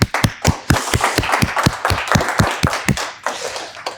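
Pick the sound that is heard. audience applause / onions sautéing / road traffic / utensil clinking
audience applause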